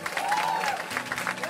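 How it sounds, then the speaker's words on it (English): Comedy club audience applauding and cheering as a stand-up comedian is introduced and takes the stage, a dense burst of clapping with crowd noise and a voice over it. "Give a round of applause for my man, Mayce Galoni!"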